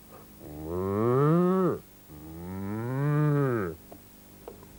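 A person's voice imitates a cow's moo in two long, drawn-out lowing calls, each a sustained rising then falling tone, close and clear with a short pause between them.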